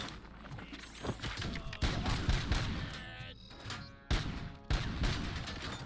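Gunfire in a video game firefight, including a sniper, with loud, dense bursts of shots and booming impacts that repeat throughout, close and continuous with brief pauses.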